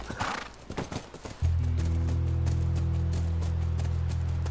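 In The Last of Us video game, horse hooves clip-clop in a quick series at first, then give way to a steady low droning hum that holds to the end.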